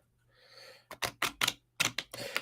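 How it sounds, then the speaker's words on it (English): Deck of cards shuffled by hand during a live card reading. A soft rustle is followed by a quick series of crisp, close riffling bursts in an uneven rhythm. "Just let me shuffle some cards."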